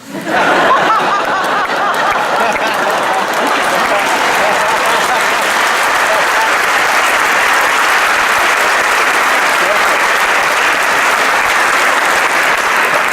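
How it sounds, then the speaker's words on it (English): Sustained audience applause fills a hall at a business school commencement ceremony, a dense, loud wall of clapping that rises sharply and holds steady throughout, with faint laughter mixed in. "I don't know if that applause is good or bad."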